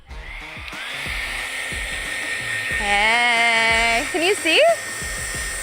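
A hair dryer blows on a phone case with a steady, close, high-pitched whine, while someone talks over it and her voice rises and warbles near the end.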